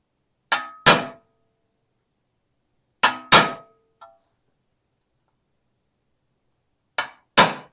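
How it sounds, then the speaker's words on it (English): A hammer strikes a metal Mandalorian pauldron in a rhythmic pattern: three quick double blows, each pair spaced a couple of seconds apart and ringing briefly, with one light tap between the second and third pairs. "I kind of feel like this is also a very rhythmic hammer pattern."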